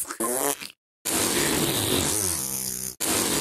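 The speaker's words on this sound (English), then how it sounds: "Why is the fart distorted, my nigga? Why is the fart distorted, bro?" A loud, harsh, distorted fart blast with a buzzy, blown-out texture fills most of the stretch, preceded by a brief burst and a gap of silence, then cut off abruptly near the end.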